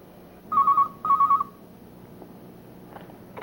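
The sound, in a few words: telephone ringing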